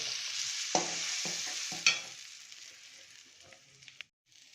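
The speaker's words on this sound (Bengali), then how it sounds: "এটাকে এখন আমরা কড়াইতে নেড়ে নেব" Split pea paste being stirred in a wok, with several scraping strokes of a spatula over a steady sizzle, close and fairly loud, fading toward the end.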